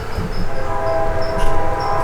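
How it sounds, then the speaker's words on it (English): Distant train rolling past a railfanning spot, a steady low rumble of rail cars with a faint horn tone sounding in short repeated bursts above it. "and a train in the distance"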